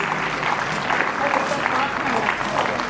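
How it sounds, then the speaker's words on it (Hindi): Audience clapping at the inauguration of a national convention by the state governor, a steady wash of applause that runs the whole clip with voices murmuring underneath. "जोरदार तालियों के साथ"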